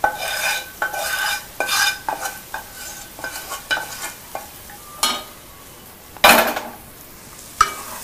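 Spoon stirring eggs frying in oil in a pan for egg pulao, a series of scraping clinks at an irregular beat over a soft sizzle, close and clear without talk.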